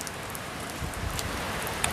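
Rain falling steadily, a continuous broadband hiss with occasional sharper drop patters, even in loudness throughout and with no voices.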